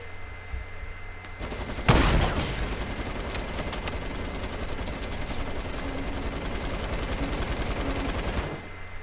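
Sustained automatic gunfire in the Fortnite Battle Royale game opens with a sharp loud burst, then rattles on as a dense rapid stream of shots before cutting off abruptly.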